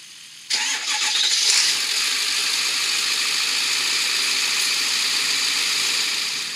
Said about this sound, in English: I'm going to go ahead and hopefully fire it up here for the first